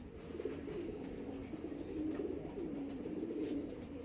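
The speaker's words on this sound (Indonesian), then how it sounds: "Burung asli Tangerang." A dove bred in Tangerang, Indonesia, coos in soft, low, repeated phrases at close range over a faint background hum.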